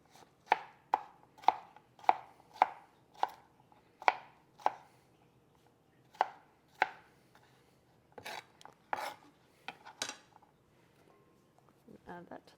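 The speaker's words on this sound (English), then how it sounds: "I'm just going to cut off a few slices and chop it into little cubes" A knife chops cucumber slices into small cubes on a board, giving about a dozen crisp, evenly spaced close-up knocks over the first seven seconds, followed by a few scattered, softer scraping and rustling sounds.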